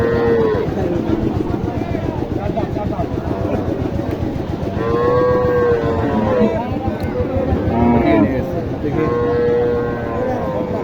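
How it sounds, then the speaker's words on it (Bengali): Cattle moo in drawn-out, tonal calls at a crowded livestock market in Naogaon, Bangladesh, where cows and calves are gathered together, several loud, near lows rising over a constant crowd murmur. "এক জায়গায় গরুগুলোকে জড়ো করে রাখছে"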